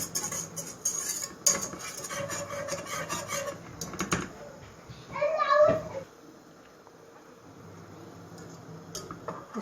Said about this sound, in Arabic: اتاكد ان الدقيق ايه داب كده في الزيت وتشوح